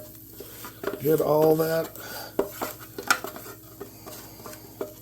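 Cooked onions are spooned into a pot of potatoes and stirred in for pierogi filling, with a spoon scraping and clinking against the pot in irregular bursts while someone talks over the mixing.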